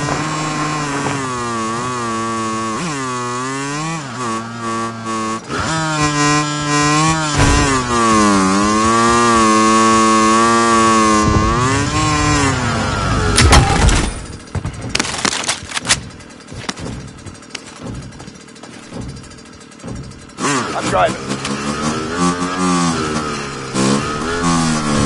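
Vehicle engine in Call of Duty Warzone on PS5, a loud harmonic drone that rises and falls in pitch as the vehicle accelerates and shifts, with a harsh burst and clatter midway before the engine settles back in.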